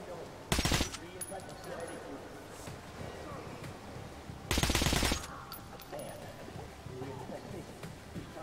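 Bursts of automatic gunfire in the shooter game Metro Last Light, two loud rapid volleys separated by a few seconds, set against a steady low rumble of game ambience.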